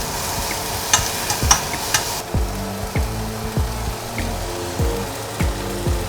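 Green chillies and onion sizzle in hot oil for a tempering during a Balinese cooking class in Ubud, with a steady close crackle broken by repeated scraping stirs of a spoon against the pan.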